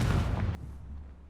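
A Confringo fire spell detonates in Hogwarts Legacy, a loud, dense burst of booming blast that cuts off abruptly after about half a second, leaving a low rumbling tail.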